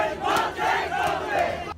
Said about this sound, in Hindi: उन्होंने तालियां बजाकर और नारेबाजी कर सबका ध्यान अपनी ओर खींचने की कोशिश की।